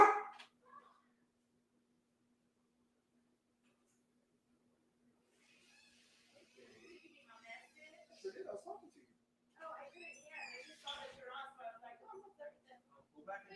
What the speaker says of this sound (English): so when the dog saw the shadow, she started barking